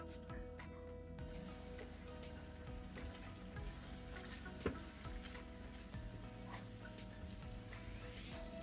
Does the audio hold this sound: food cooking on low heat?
yes